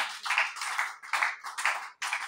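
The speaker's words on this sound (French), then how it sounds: "Applaudis pour le Seigneur." A church congregation claps praise in a steady rhythmic beat, about six sharp pulses, fairly close and alone without voices.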